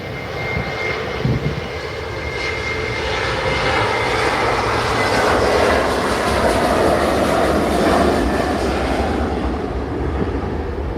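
A Jet2 airliner departs Manchester Airport's runway 23L, its jet engines producing a sustained, loud broadband roar that swells gradually as it climbs away, heard from nearby and alone without talk.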